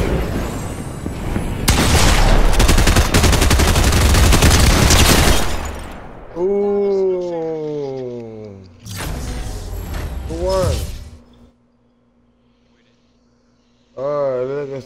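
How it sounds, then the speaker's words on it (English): Video game gunfire bursts in loud rapid fusillades, dense rattling volleys at the start and again mid-way, with mechanical clanks and sliding sounds between them and voices talking over parts of it. "Saw people just shooting at the same time."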